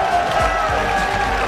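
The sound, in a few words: crowd cheering at an esports match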